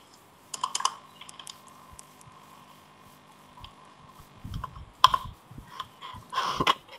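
Computer keyboard typing during a Minecraft session, scattered clicky keystrokes in short bursts over a steady faint hum, close and fairly quiet, with no voices.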